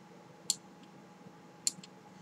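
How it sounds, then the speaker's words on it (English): Filco Majestouch mechanical keyboard with Cherry MX Blue switches giving two sharp, isolated clicks about a second apart, each with a faint softer tick just after, over a quiet background hum. "which is a little click that tells me the key press has been recognized by the keyboard"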